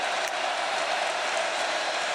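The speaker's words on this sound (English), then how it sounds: "Listen to this crowd on 3rd and 3" A dense, steady crowd roar fills a college football stadium on a 3rd-and-3 play, loud and unbroken throughout with no rise or fall.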